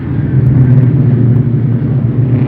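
1970 USAC Champ race cars pass on the Springfield track, a loud continuous engine rumble and roar heard from moderately close range, steady throughout with no talk.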